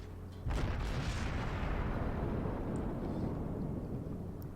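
Heavy cruiser guns boom in World of Warships as a Pensacola fires on battleships, a loud onset followed by a sustained rumbling roar that slowly fades over several seconds.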